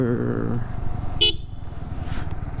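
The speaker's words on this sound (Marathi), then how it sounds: "हॉर्न वाजवलेला आहे मी." A motorcycle horn gives one short toot on arrival at a building after a solo ride from Mumbai to Lonavala, heard briefly and close over engine idle and low background chatter.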